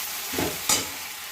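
Chicken sautéing with Kashmiri chili powder in a pan, a brief soft sizzle with two quick scraping stirs close by.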